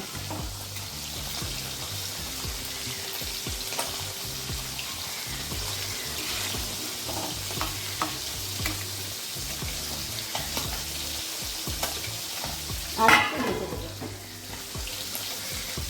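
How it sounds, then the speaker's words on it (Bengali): Tangra fish frying in a pan gives off a continuous, steady sizzle and hiss at close range, with a brief louder burst near the end and no voices. "মাছ ভাজাটা হতে থাকুক"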